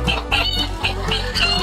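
Chickens, hens and long-spurred fighting roosters, cluck loudly and continuously in a rapid, repeating rhythm, close by and with no talking.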